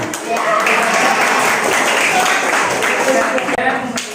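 Students applauding in a classroom, a continuous bed of clapping mixed with lively chatter and voices throughout, loud and close.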